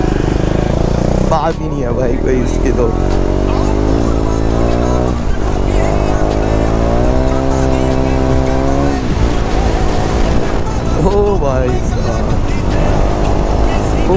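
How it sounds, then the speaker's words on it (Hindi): A motorcycle engine drones loudly and steadily while riding, revving up and down with sharp exhaust pops and crackles breaking through; someone talks over it throughout. "इतने प्यारे पॉप्स कर रही है ना हमारी बाइक"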